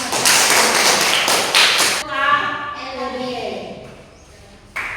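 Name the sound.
audience applause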